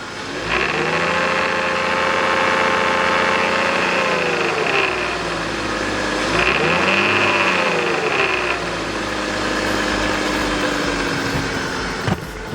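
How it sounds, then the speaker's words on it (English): A budget BMW race car's engine, suspected of a Vanos fault, revs up repeatedly from idle, the pitch climbing and falling in two main swells, loud and close with a whine and mechanical noise from under the valve cover. "the noise we were hearing was coming from underneath the valve cover only when the motor was revved."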